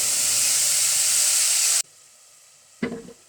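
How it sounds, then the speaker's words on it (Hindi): Cumin seeds crackle and sizzle loudly in hot oil for tempering black chickpeas. The steady frying hiss stops abruptly partway through, and a brief clatter follows after a short quiet gap. "अब इसमें हम डाल लें ज़ीरे का बघार लगाएंगे, इसके अंदर ज़ीरा डलेगा।"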